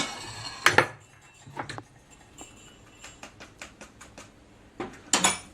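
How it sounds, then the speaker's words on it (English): A wooden spoon scrapes bird cake mixture from a bowl in a series of sharp, separate knocks and scrapes, some louder bursts and lighter taps in between, close by with quiet gaps. "We use the wooden spoon, it makes like that horrible nasty sound."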